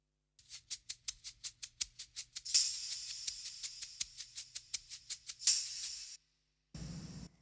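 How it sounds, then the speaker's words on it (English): Bright tambourine jingles tap out a steady rhythm, joined by hissing shaker strokes, then a short separate burst of shaker rattle. "I'm also adding percussion, such as tambourine, shaker,"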